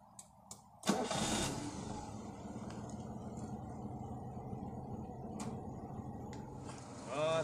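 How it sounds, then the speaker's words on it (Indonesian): An old classic car's engine idling, a low steady rumble after a brief start-up burst, with a few faint clicks and a short rise near the end. "Sekarang ini kondisi mobil dalam keadaan hidup ya."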